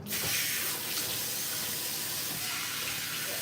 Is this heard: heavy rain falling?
no